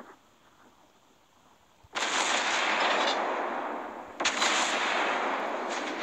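Heavy battleship guns of the Nagato fire in World of Warships Blitz, two loud sustained blasts of broadband roar, each starting abruptly and rumbling on for seconds after a quiet lead-in.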